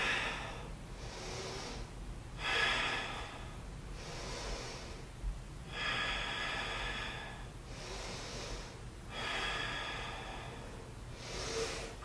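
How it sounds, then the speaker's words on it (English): Slow, steady breathing during a beginner yoga session, with about five long, airy inhale-and-exhale cycles close to the microphone, heard alone with no talking. "Continue to breathe,"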